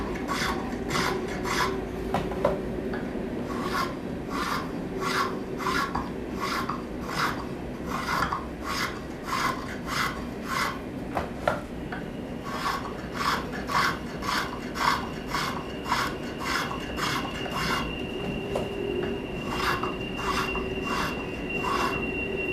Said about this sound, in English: going ahead and cutting that uphill with the spokeshave